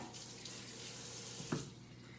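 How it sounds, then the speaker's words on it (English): Tap water runs steadily into a kitchen sink for hands being rinsed, a continuous close splashing hiss with one brief louder splash near the end, no voices. "I'm gonna rinse my hands really quick."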